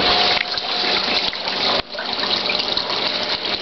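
Water discharged from a washing machine gushes into a sink, a loud continuous rushing pour that dips briefly midway and then carries on steadily.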